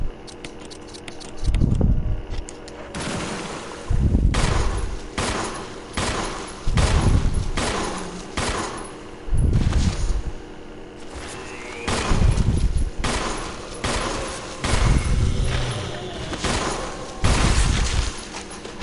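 Gunfire from Chris in the Resident Evil remake: loud, heavy shots booming out one by one every couple of seconds, each with a short crashing tail, close and alone.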